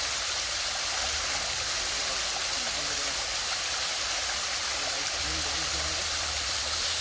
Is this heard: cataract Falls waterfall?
yes